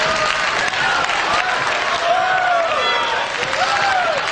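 Stand-up comedy audience clapping and cheering in a dense, loud wash of applause, with whoops and shouts rising over it throughout.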